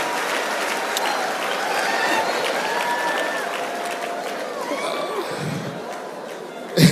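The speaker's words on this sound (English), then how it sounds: "So I want to clap for my mama there." Sustained applause from a conference audience at a leadership event in a church centre, steady clapping filling the whole stretch with crowd murmur underneath and a sharp thump at the end.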